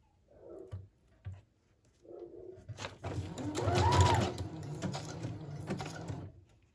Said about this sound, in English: I'm going to go with a zigzag stitch, and I'm just going to kind of bunch it as I go.